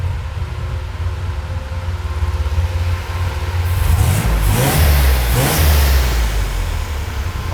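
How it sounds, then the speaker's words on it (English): A junkyard-turbo Chevy S10 pickup engine idles steadily, then revs up twice in strong, loud bursts that swell and fall back, recorded close with no talking. "Let me give you rev up."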